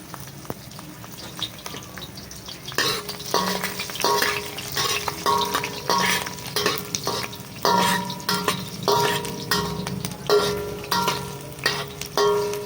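Garlic frying in a pan to brown for chicken feet adobo, a loud crackling sizzle that surges once stirring begins, with repeated scraping strokes of the spatula and no talk.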